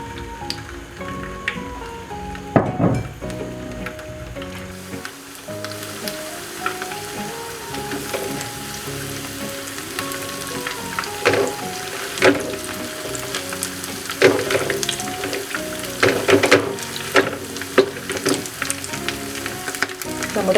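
Coated chicken pieces fry in a hot pan, a loud, continuous close sizzle and crackle with occasional stirring clatters and a faint tonal hum underneath.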